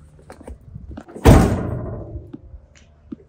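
A heavy aluminum spare tire carrier door on a van swings shut with a single loud, solid slam that rings out and decays over a second, preceded and followed by faint handling clicks.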